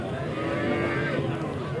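A Punganur calf lows in a single sustained moo at a busy cattle market, close and fairly loud against a murmuring crowd.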